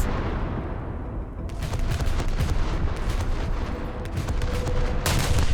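Naval guns of the SMS Nassau battleship fire in the War Thunder game, several loud booming shots and bursts crashing over a constant rumbling battle din.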